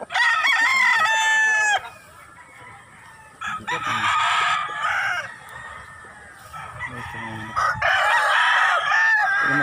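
Gamecock roosters on a rooster farm crow repeatedly, loud and close, with several long cock-a-doodle-doo calls spaced across the clip and softer clucking and yard noise between them.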